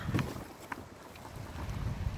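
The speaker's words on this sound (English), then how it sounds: "It's really not that cold out here, it's just windy" Gusty wind blowing outdoors on a chilly Florida day, buffeting the microphone with a low rumble and a few sharp bursts, steady and fairly faint throughout.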